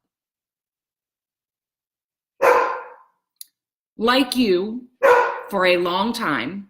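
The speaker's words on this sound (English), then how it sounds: "Sorry about the dog." A dog barks a few times in the background, brief and somewhat muffled, while someone speaks over it in a continuous monologue.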